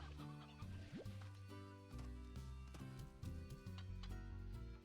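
Game chickens in Slime Rancher cluck in short repeated bursts. Steady background music plays under them, and the clucking stays moderately close and fairly quiet.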